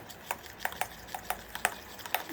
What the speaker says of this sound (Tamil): நல்லா கிளறி விட்டுட்டே இருக்கணும். அப்போ தான் அதோட துருவி வச்சோட சோப்பு நல்லா டவ் சோப்பு நல்லா கரையும்.